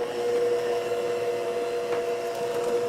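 Steady electric mixer whirring as it blends lemon ricotta cookie dough, combining dry ingredients into wet, a constant close hum with no talking.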